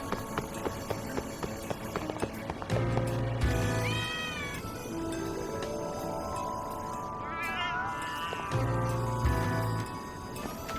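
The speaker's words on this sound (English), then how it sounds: "Really kind of sounds like those cats are ratting me out." Cats meow repeatedly in the video game Lost Judgment, rising and falling calls heard over constant game music and ambient background.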